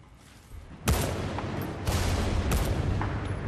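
Sniper rifle shots in Battlefield Bad Company 2: three sharp, loud cracks spaced about a second apart, each with a rolling boom and echo tail over a low battlefield rumble.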